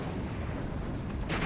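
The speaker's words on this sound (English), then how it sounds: "now the Pack 40 might be able to get a shot here" A Pak 40 anti-tank gun fires in the Steel Division: Normandy 44 battle game, a dense booming blast that rumbles on through the whole moment amid continuous battlefield din.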